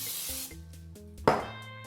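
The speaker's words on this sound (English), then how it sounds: "We'll spray them a little bit" Cooking-oil spray hitting chicken wings in an opened air fryer: one short, close hiss burst partway through, over a faint background hum.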